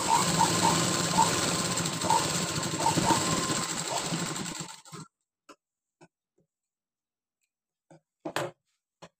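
A sewing machine stitches a girl's fancy blouse with a quick, continuous whirring run for several seconds, then stops, leaving near silence broken by a few soft clicks and handling noises.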